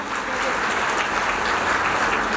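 Applause welcoming a donor at a Shrimad Bhagwat Katha gathering in Hisar, a dense, steady burst of crowd clapping that holds loud and even for a couple of seconds.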